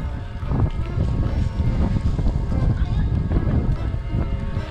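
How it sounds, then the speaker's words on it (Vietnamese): Strong wind buffets the microphone outdoors while a giant kite is flown, a loud, continuous low roar with gusty swells throughout, with people talking over it. "Gió to quá."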